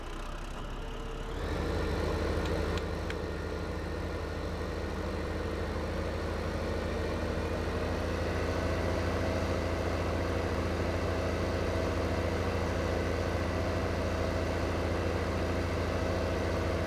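A tractor engine in the Farming Simulator 15 video game starts up, then settles into a loud, steady low idle hum that runs unchanged for the rest of the stretch, with no talking over it.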